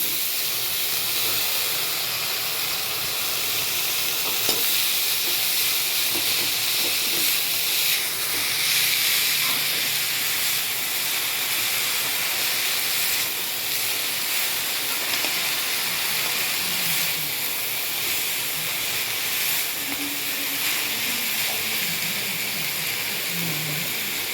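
Small greens (siru keerai) tossed into a pan of reddened frying onions, giving a steady, fairly soft hissing sizzle that runs on continuously with faint scraping and clinks in the background.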